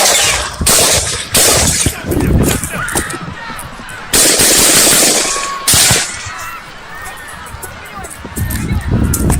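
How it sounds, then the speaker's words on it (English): Loud bursts of gunfire, with shots from a police officer near a building, ring out in several heavy blasts separated by short gaps, harsh and close with echo. "the cop on the ground turned towards the building and could have fired the 5 shots"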